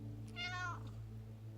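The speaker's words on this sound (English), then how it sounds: "my cat is trying to get all in the middle of this reading here" A pet cat gives a single short meow, fairly faint, over a steady low hum in the room.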